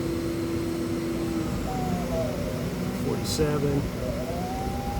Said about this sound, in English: you can hear the motors accelerating and decelerating as it ramps and goes around the arc